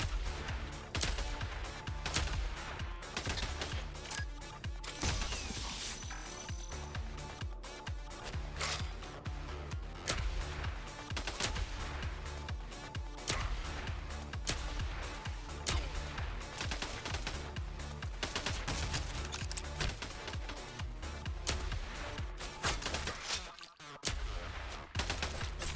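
Sustained gunfire from the indie shooter Cybercorp rattles almost nonstop, with dense rapid bursts and loud layered shots under a busy game soundtrack, broken by only a brief lull near the end.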